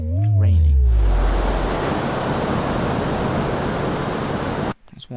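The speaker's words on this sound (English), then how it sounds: "it's raining." Rain in the submarine video game U-Boat, a dense steady hiss of downpour starting after a low rumbling swoop, loud and continuous, cutting off abruptly near the end.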